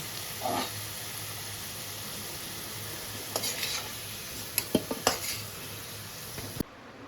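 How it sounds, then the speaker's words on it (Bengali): Deep-fried potatoes being lifted from hot oil in a pan: a steady low sizzle throughout, with a few sharp metallic clinks and scrapes of a utensil against the pan near the end, then sudden quiet. "আমার ওই একইভাবে ডিপ ফ্রাই করে নিয়েছি এবারে তুলে নিচ্ছি"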